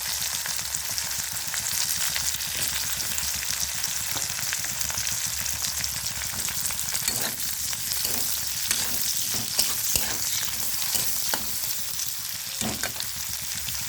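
Sliced capsicum frying in a wok with garlic and green chili, a continuous close sizzle broken by repeated scraping and clicking of a utensil while stirring, with no talking.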